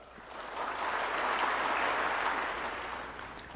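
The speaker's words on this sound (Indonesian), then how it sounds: "Jangan terlalu cepat tepuk tangan." An audience applauds during Prabowo's speech at a school opening: a dense wash of clapping that swells and then fades over a few seconds, with no talk over it.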